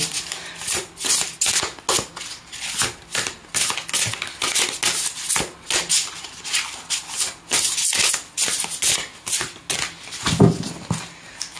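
Large tarot cards shuffled and riffled in quick, dense bursts of papery slaps and flutters, steady and close, with no talking.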